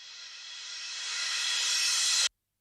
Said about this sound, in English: Now that was a reverse crash sound.